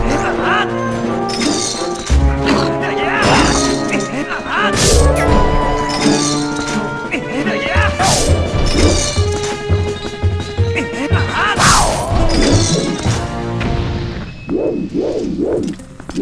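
A heavy ball and chain smashes and clanks during a boss fight in the Temple of Time of Zelda: Twilight Princess, with repeated loud crashes and metallic rattles over game music and creature cries.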